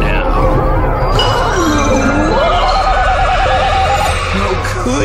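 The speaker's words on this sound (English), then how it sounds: "KO, you're a horse now." A cartoon horse neighs loudly and close up, a long wavering whinny that rises and falls over several seconds, with faint background chatter beneath it.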